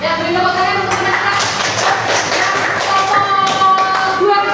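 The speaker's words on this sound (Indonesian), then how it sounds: "beri tepuk tangan untuk mereka" A classroom of students applauds a student group, many hands clapping in a dense, steady patter with voices mixed in.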